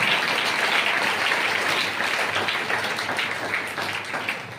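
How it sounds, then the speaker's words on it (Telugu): A church congregation claps together in a dense, sustained burst of applause that stays loud throughout, then eases off slightly toward the end, with no voices standing out. "చప్పట్లు కొడుతూ యేసయ్యని మహిమపరుస్తాం."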